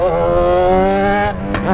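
A Yamaha XJ6 motorcycle revs on the throttle, its engine note loud and close with a rich harmonic drone that holds steady and then drops briefly near the end.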